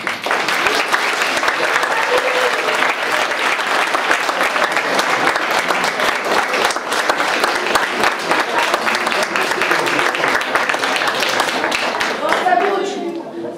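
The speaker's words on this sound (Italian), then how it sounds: "un applauso a tutti i ragazzi di Tizzano Val Parma" A hall full of people gives students a long, loud round of applause at an award ceremony, dense continuous clapping close by that fades near the end as a voice starts.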